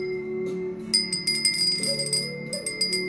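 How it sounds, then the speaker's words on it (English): A small bell is rung over and over in a quiet room, with bright, ringing strikes coming in a quick, uneven rhythm after a brief calm start. "we're going to ring the bell"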